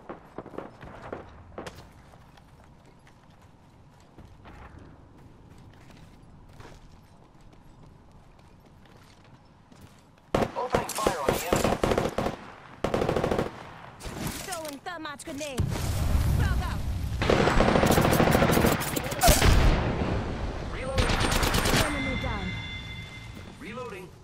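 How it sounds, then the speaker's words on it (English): Enemy gunfire in the video game Apex Legends: a fairly quiet opening with soft steps, then from about ten seconds loud, dense bursts of shots crowd the second half, broken by brief gaps. "Taking fire. The enemies are shooting at me."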